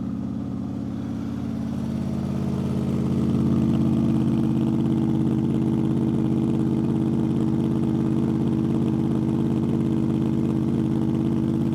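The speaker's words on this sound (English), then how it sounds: "I'll switch on the bike so that you can hear how does the gutted exhaust sound." A Honda VFR800 motorcycle with a gutted exhaust idles steadily close by, its deep, throbbing engine drone swelling slightly after a couple of seconds, then holding an even, loud burble with no talking.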